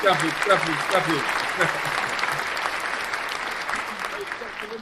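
An audience claps steadily for several seconds, a dense patter of applause with a few voices rising through it at the start.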